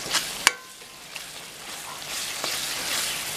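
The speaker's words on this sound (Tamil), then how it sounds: "கலந்து நல்லா மிக்ஸ் பண்ணிக்கலாம்." Ginger garlic paste frying in a pan, a soft steady sizzle with a sharp utensil tap near the start and a few lighter scrapes, close and fairly quiet, alone without talk.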